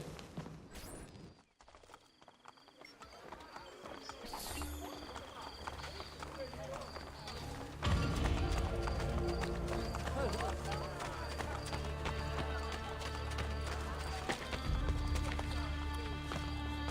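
Horse galloping in the video game Assassin's Creed Brotherhood, a rapid rhythmic clip-clop of hooves with a neigh, set under game music and effects, with speech over the top.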